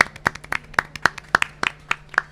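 Audience members at a live radio broadcast during a charity marathon event in Gràcia clap steadily, a modest, close round of applause with distinct individual claps.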